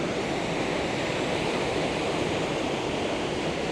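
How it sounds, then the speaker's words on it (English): Strong ocean surf pounds in a continuous, loud wash of breaking waves, a thick unbroken roar with wind mixed in, close and steady throughout with no voices. "wow, look at those waves, that's crazy"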